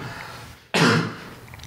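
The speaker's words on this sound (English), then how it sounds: "if you hear me coughing" A single sharp cough bursts out after a quiet moment, harsh and close, trailing into a short rasping throat clear that fades within a second.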